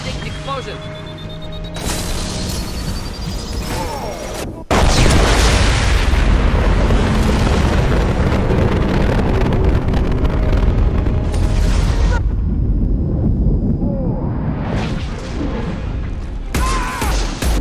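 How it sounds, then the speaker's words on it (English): A loud, booming blast erupts and rumbles on with dense crashing noise in Mass Effect 2, set among game sounds and clashing action, with brief quieter stretches. "Impending explosion."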